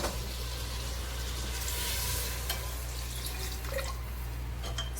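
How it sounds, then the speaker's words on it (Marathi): Water poured into a pan of browned chicken for a rustic Marathi village-style chicken curry, giving a steady close sizzling hiss with light dripping and splashing that runs unbroken throughout, with no talk. "आता आपण यामध्ये पाणी घालून घेऊया."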